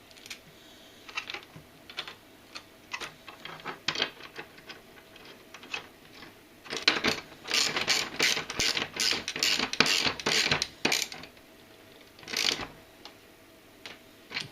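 A ratchet tightening a screw with a clamping washer and a flat washer, giving rapid clicking bursts in uneven runs with short pauses, up close and with no talking.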